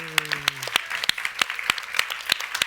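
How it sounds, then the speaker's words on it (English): Audience applause at a talk event: a brief burst of scattered clapping from a modest group, fairly close and moderately loud, with a voice speaking over the start. "Round of applause"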